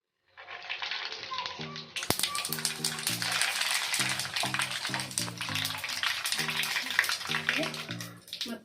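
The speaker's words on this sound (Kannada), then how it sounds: "ಈಗ ಆಯಿಲ್ ಹೀಟ್ ಆಗಿದೆಯಲ್ಲ ಈಗ ಸಾಸಿವೆ ಜೀರಿಗೆ ಹಾಕೋಣ" Mustard and cumin seeds hit hot oil in a pan for Andhra-style tomato pappu, with a sudden loud sizzle and crackle setting in after a quiet start. Rhythmic tonal notes repeat underneath the frying throughout.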